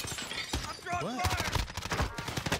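Gunfire in Call of Duty: Warzone rattles in quick bursts and single shots, mixed with other game effects and a brief rising tone, while a player's voice talks over it.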